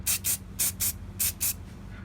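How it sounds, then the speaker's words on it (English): An aerosol can of clear spray paint sprays in six short, close hissing bursts, paired in quick doubles with brief pauses between them, outdoors in wind. "give it a bit of a quick coat of clear"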